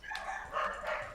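Several dogs bark in quick overlapping bursts, loud and close, with no talk over them.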